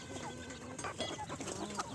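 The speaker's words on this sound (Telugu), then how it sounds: "ఈ పుంజు కొత్తగా తెచ్చినాం." Free-ranging country chickens and a newly brought rooster cluck on an organic farm, soft scattered clucks and calls over a noisy, faint outdoor background.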